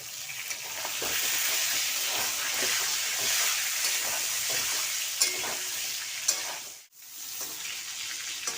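Sliced pointed gourd with turmeric and salt fries in a pan, a steady close hiss and sizzle with small stirring clicks, briefly dropping out near the end before resuming.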